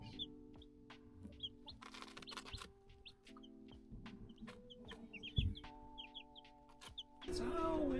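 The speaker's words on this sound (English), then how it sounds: "Chickens. Oh, chickens." Chickens cluck and chatter close by in a steady, busy flurry of short calls, with occasional faint voices and a louder rustle at the end.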